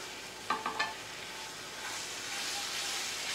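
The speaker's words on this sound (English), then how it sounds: "So we got to cook the gravy or cook the flour for a second." Flour cooking in a pan for a mushroom gravy gives a steady, moderate hiss of sizzling and steam, with a few brief stirring scrapes near the start and no talking.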